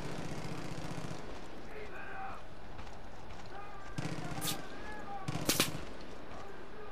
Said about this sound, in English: They don't even know I'm here, and they're firing at just walls.